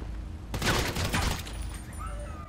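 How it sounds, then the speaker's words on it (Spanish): Rapid burst of airsoft pistol shots in a GTA roleplay game, several quick cracks packed into about a second, loud and close, followed by fading ringing tones. "Una pistola de Airsoft. Tía, eso dispara bien"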